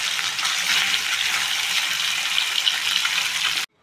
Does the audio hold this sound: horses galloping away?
no